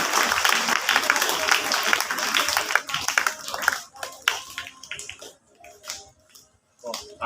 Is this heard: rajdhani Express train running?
no